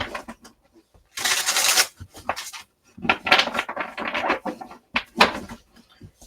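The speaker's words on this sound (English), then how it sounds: "Give these a really good shuffle." Several bursts of tarot cards being shuffled and riffled, crisp papery rustles in quick sequences separated by short pauses.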